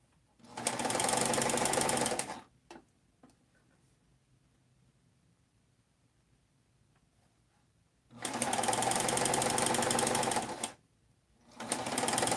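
A sewing machine zigzag stitches the edge of a dress, running in two loud bursts of rapid mechanical whirring separated by several seconds of quiet, then starting again at the end.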